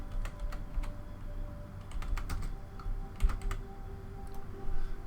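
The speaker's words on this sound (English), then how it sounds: "we can actually type in a player" Rapid, light clicking of a computer keyboard as a player name is typed, fairly close, steady and continuous over a low background hum.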